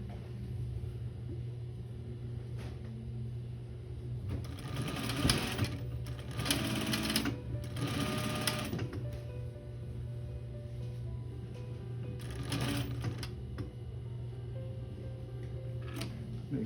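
A sewing machine stitches a quarter-inch seam on a blanket coat, running in several short bursts over a low steady hum, with pauses between runs.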